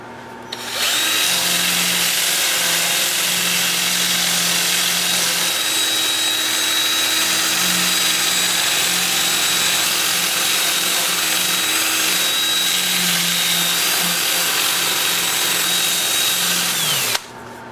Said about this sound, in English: And then I'll change to my 2-inch disc starting at 80 grit and working up through 400.